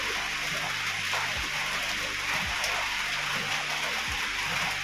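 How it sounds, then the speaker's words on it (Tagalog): Steady rain pours down, a dense continuous hiss of drops on surfaces, with occasional low thumps. "Pero umuulan."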